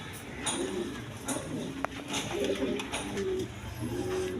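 Bombay pigeons coo softly in a repeated, rolling low murmur, with faint shuffling and a quiet background hum.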